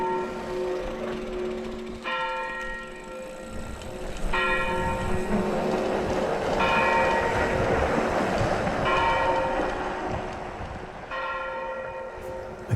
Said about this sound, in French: vous entendez les cloches du sympathique village de la Bisbal des Falsettes